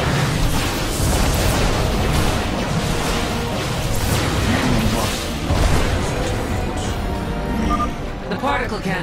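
Particle cannons explode in the StarCraft 2 video game, a loud, sustained rumble of blasts and bursts layered with battle effects, and game voices talk over it.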